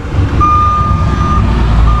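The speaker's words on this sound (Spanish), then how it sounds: "me disculpan el camión de la basura, pero bueno, estamos en la calle" A garbage truck reverses on a street, its backup alarm sounding steady high beeps up close over a low diesel rumble.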